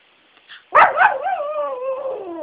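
A Maltipoo dog howls on command: after a short quiet lead-in, a sudden sharp yelp opens into a sustained, wavering tonal howl that slowly falls in pitch, close and clear, with no talking.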